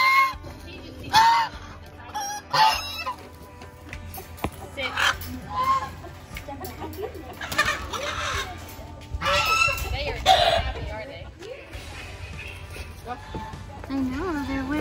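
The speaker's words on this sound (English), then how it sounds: "I heard geese" Several geese honk in bursts amid other farmyard fowl calls, with people talking over the noisy outdoor scene.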